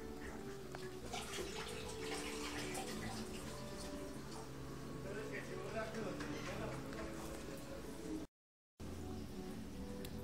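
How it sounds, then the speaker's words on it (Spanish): Clean water is poured into a home aquarium during cleaning, a continuous splashing trickle under steady talk in Spanish, broken by a brief silent gap near the end. "Y ahora continuamos con esto que es echarle el agua ya limpia al acuario."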